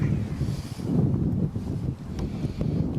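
Strong outdoor wind buffets the microphone in a steady low roar with gusty swells, loud and close, no other sounds clear above it.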